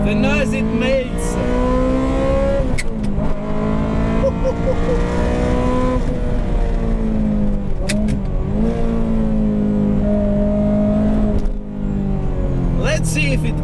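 Ferrari F355 engine revving hard on an empty racetrack, loud and continuous with rising and falling pitch through gear changes and brief lifts, while a voice talks over it.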